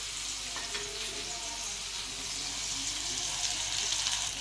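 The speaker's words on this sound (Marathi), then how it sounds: "हा कांदा टाकून घ्यायचा कांदा मी चांगला परतून घ्या ना" Chopped onion sizzles steadily in a hot pan while being stirred for a village-style mung bean curry, a constant close-up frying hiss with no talk.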